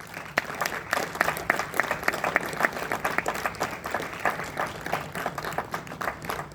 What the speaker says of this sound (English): Give a warm round of applause for Mr. Ravi Kottarakara.